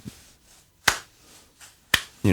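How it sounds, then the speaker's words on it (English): Finger snaps sound alone, close and crisp: two sharp snaps spaced about a second apart, a third starting at the end, with quiet gaps between them. "tick, tick, tick, clap, clap, clap, snap, snap, snap songs"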